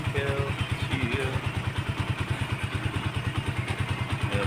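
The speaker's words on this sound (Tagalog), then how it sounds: "What's this guys? The motorcycle." A motorcycle runs close by during a father-and-son riding practice session. Its engine throbs rhythmically and steadily, and brief speech is heard over it.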